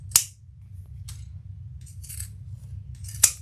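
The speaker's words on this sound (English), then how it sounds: "pinking shears just aren't meant to go through lots and lots of layers" Pinking shears slicing through two layers of vinyl, giving two sharp, close snips about three seconds apart, with a few faint rustles between them over a low background hum.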